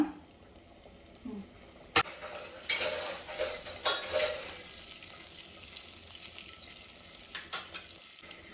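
Boiled, cut eggs are stirred in a pan with turmeric, salt and chilli powder over a low-to-medium flame for egg biryani, giving faint sizzling broken by several scraping stirs and clinks of a utensil.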